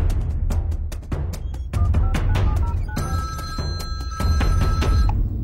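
A telephone rings repeatedly with steady electronic trills over a busy, noisy background, loud and close.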